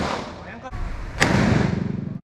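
A single sharp, loud gunshot from a real firearm cracks out at an outdoor shooting range partway through, with people talking before and after the report.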